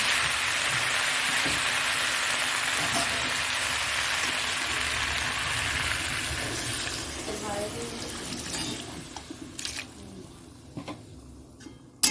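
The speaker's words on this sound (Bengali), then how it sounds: "এবার এর মধ্যে জল দিয়ে দেবো" Water goes into a curry that has been cooking down in a pan, giving a steady broadband wash of pouring and bubbling that slowly fades, with a few sharp clinks near the end.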